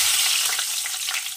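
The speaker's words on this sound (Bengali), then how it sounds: "আলুটা এবারে একটু লাল করে ভেজে নেব" Long-cut potatoes fry in hot oil for a Bengali aar fish curry, a loud, dense, close sizzle that holds steady throughout with no voices.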